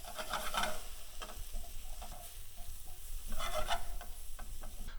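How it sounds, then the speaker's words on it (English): Mushrooms sizzle and fry in a hot pan while a utensil stirs and scrapes them, with steady crackling throughout and brief louder bursts of stirring near the start and again toward the end. "A little stir."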